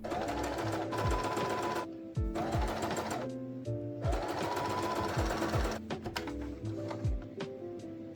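A sewing machine runs close up, stitching a seam on a cosplay glove being resized, in fast rattling bursts separated by a few short pauses.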